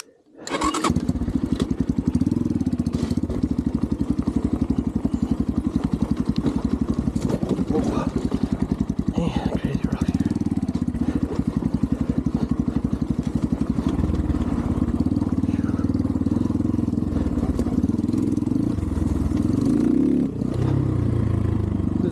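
A TemplarX 250 dirt bike engine runs loud and close, its dense rough roar held nearly constant throughout with small surges in revs and a slight dip near the end.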